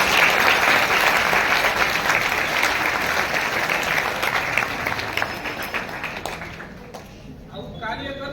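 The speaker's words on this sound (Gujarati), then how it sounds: "આપણે એમને જોરદાર તાળીઓથી વધાવીએ પહેલા." Audience at a career guidance and motivational speech applauding heartily, dense sustained clapping for around seven seconds that gradually thins and tapers off toward the end.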